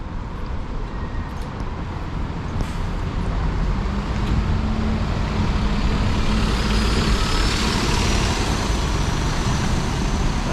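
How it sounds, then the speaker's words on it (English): A bus rolls past in Reading town centre, its engine rumble and road noise building steadily from moderate to loud and close, amid general street traffic, with no voices. "We actually do have a bus approaching."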